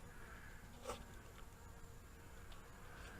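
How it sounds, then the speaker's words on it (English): Honeybee swarm buzzing at a top bar hive, a faint, steady outdoor hum of many bees with individual insects passing close by now and then. "We have caught our 4th swarm this year."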